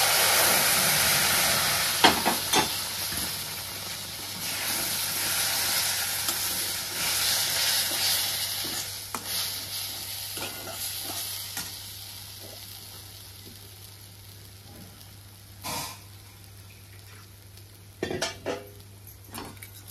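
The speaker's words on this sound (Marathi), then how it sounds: "मी पाणी इकडं गॅसवर उकळून घेतले, ती ह्यात आता ओतून घेणार आहे" Hot boiled water pours into roasted semolina for mango shira, bringing a steady sizzle and hiss with spoon scraping and utensil clatter, fading toward the end before a few sharp clinks.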